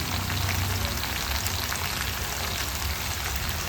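Brinjal (eggplant) pieces frying with onions in a pan, giving a steady, loud, dense sizzle that stays even throughout, with no talking.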